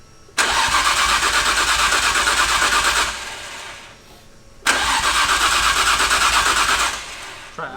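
A Nissan R34 GTR engine cranks and catches in two loud bursts of roughly three seconds each, a quieter pause between them as it nearly fires on its first start, with a brief stir at the end.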